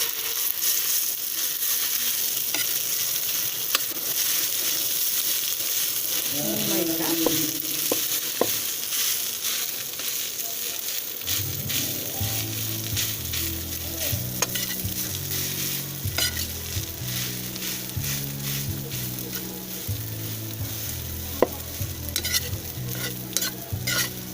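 Rice being stirred in a hot pan for garlic fried rice, a steady sizzle with repeated scraping and scooping strokes, joined partway through by a low rhythmic clatter of the spatula working the rice; no talking.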